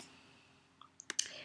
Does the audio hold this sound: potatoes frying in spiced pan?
no